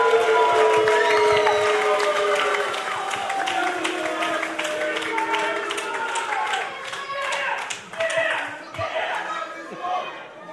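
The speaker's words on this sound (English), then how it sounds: "give the 2016 APW Young Lion the much due round of applause that this man deserves" Crowd applause and cheering at a professional wrestling event for the 2016 APW Young Lion, sustained clapping and chatter from the audience with voices and shouts mixed in, fading slightly toward the end.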